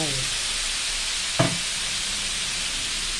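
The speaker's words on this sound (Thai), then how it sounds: "หมูเริ่มขาวแล้ว ก็ใส่พริกลงไป" Pork stir-fried in a pan with bell peppers tossed in gives a steady, even sizzle throughout, with one brief clatter or stir partway through and no voices.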